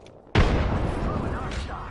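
Grenade explosion in the video game Apex Legends, a sudden loud close blast that rumbles and decays over about a second and a half after a quiet moment.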